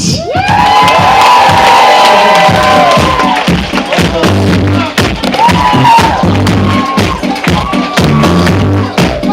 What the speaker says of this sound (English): put your hands together and make some noise and welcome to the stage, Scott